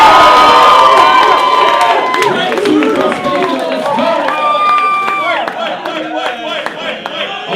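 A loud crowd at a rap battle cheers and shouts, with whoops and a few claps rising over a dense roar of voices, close and energetic.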